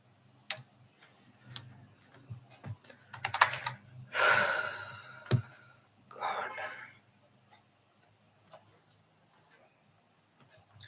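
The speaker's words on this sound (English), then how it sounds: "I'm using another keyboard and it is making me press other keys." Computer keyboard typing in quiet scattered clicks and taps, close by, with a few louder rustling bursts and a soft voice murmuring in between.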